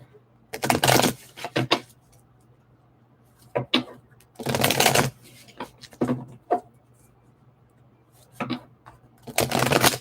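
Tarot cards shuffled in several short bursts of close riffling and flicking, separated by quiet gaps with a low background hum.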